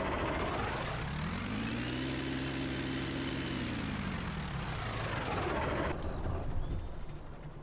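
A Fortschritt ZT 300 tractor engine in Farming Simulator 19 drones steadily as it drives, its pitch rising and then falling away, loud and continuous, ending with a brief shift near the close; no talking.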